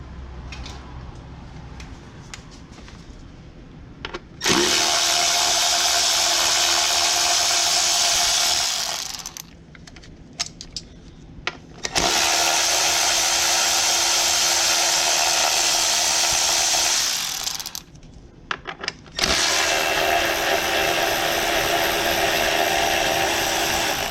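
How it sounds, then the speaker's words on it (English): Ratchet wrench spinning out 8mm hold-down bolts on a Ford Mustang GT350 engine during a spark plug job, heard as three long, loud bursts of rapid clicking separated by short pauses, with no talking. "Then remove your 8mm hold down bolts."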